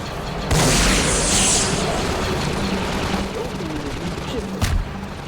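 In a Garry's Mod Clone Wars roleplay match, a rocket launcher goes off with a loud boom, followed by a dense rattle of distant gunfire, more blasts and a sharp crack near the end, while a voice talks faintly underneath.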